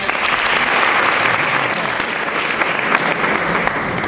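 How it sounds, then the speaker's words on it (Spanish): Sustained applause from an audience at a youth political congress, a dense steady wash of many hands clapping at moderate distance, with faint crowd murmur underneath. "Un fuerte aplauso para ella."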